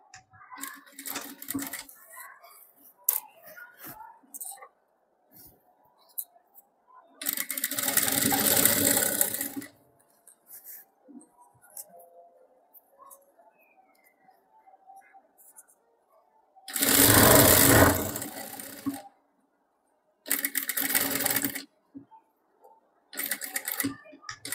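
Short bursts of a sewing machine stitching a zipper onto an iron-pleated lehenga skirt, two loud runs of several seconds and a brief third, separated by quieter handling noises.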